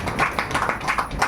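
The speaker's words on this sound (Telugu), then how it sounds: "చప్పట్లు కొట్టండి ఒకసారి." An audience at an all-night kneeling prayer meeting in Bhimavaram claps hands in a brisk, fairly even rhythm of sharp slaps, moderately loud and close, over a short stretch.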